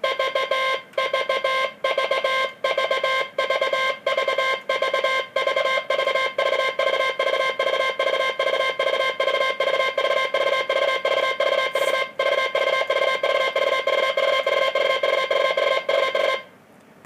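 Continuous heavy-weight Morse code tone keying steadily, the beeps growing faster until the dits nearly blur together, then stopping abruptly.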